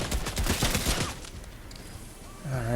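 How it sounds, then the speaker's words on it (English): Minigun firing in Fortnite, a rapid, loud burst of shots for about a second that then stops, leaving a quiet tail before another game sound rises at the end. "The minigun's intense. Sometimes it shoots more than you want."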